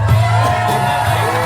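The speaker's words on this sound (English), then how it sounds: "Cheer your athletes on and boo your opponents." A crowd at a lumberjack show in Ketchikan roars with loud, sustained cheering and whoops for the springboard chop, a dense continuous wall of voices close and full throughout.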